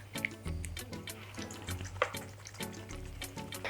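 A little water drips and trickles into a refined-sugar-free Thanksgiving dessert mixture of sour cherries, coconut oil and vanilla, with soft liquid splashes under background music.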